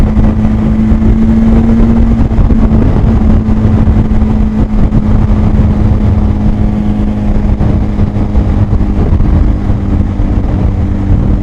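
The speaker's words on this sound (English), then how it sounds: "show you this awesome Benelli 502 ADV bike" A Benelli 502 ADV adventure motorcycle's engine droning loudly and steadily while riding, with a constant low hum and rushing wind throughout.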